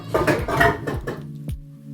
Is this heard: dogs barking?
no